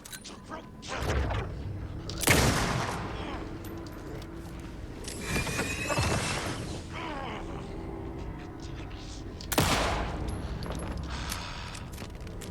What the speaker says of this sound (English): Hunting rifle bullet to the brain.